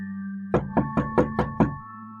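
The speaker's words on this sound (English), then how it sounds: "I think my mom's knocking on the front door right now" Six firm knocks on a front door land in a quick, even run, clear and fairly close over a steady low hum, with no voices.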